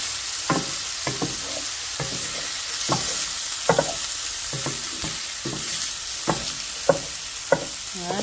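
Veggie fried rice sizzles in a pot with a soft, constant hiss, while a spatula scrapes at a regular rhythm, roughly once every second. It is close up and there is no talk.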